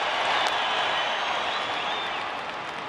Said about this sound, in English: Crowd's really fired up.